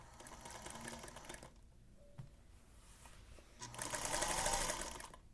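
A sewing machine stitches a quilt seam in short, fast bursts, quiet and close, pausing briefly in the middle before running again.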